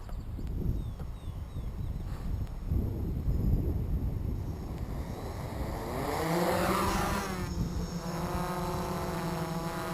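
A DJI 550 drone hovers low outdoors, its rotor whine rising partway through into a steady, fairly close buzz with clear harmonic tones, over earlier rumbling background noise.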